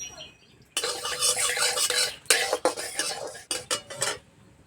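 Cardamom pods stirred in half a spoon of ghee in a wok, with a spoon scraping and clattering against the metal in quick irregular strokes, close and fairly loud over a faint sizzle.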